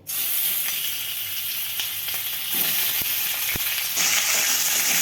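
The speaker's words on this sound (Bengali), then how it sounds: "কড়াইয়ে আমি সাদা তেল গরম করে নিয়েছি এই রান্নাটা আমি সাদা তেলেই করব এরপর আমি মাংসগুলো দিয়ে দেবো" Chicken pieces frying in hot white oil in a kadai, a loud continuous sizzle and hiss with a couple of brief clinks near the end.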